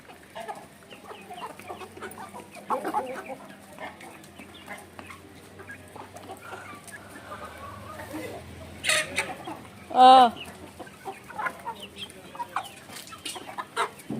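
Well-fed farm-raised chickens cluck in scattered, soft bursts at mid distance, with one louder squawk standing out near the end over a quiet yard.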